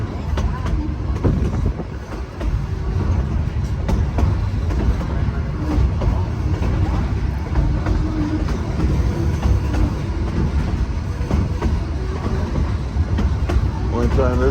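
The Cumbres & Toltec Scenic Railroad's K36 484, a three-foot narrow gauge steam locomotive, is arriving: a continuous loud rumble of rolling railcars with rhythmic clatter, close by, with people talking over it.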